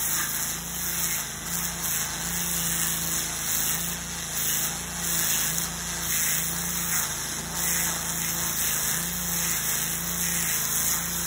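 An Eastwood wet sand blaster spraying, a steady loud rushing hiss with a hard high-pitched edge and faint rhythmic pulsing underneath, close and continuous with no talking.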